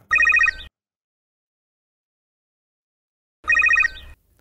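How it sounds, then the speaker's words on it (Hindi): A telephone rings in two short electronic trilling bursts separated by about three seconds of silence, loud and close with no voices. "ऐसे में एक फोन आया।"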